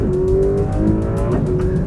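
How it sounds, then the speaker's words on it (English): Ferrari 12 Cilindri V12 engine revving hard in a brief loud burst, a rising, harmonically rich howl with a quick shift-like dip midway. "This is the Ferrari 12 Cilindri, or 12 Cilindri, and it's very, very fast."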